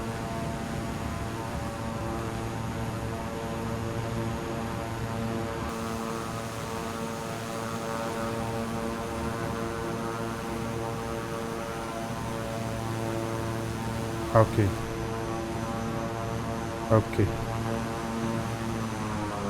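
A propeller airplane droning in a flight video game, a steady, even engine hum with layered harmonic tones that holds across the whole stretch while someone talks over it, with a couple of brief louder bumps near the end.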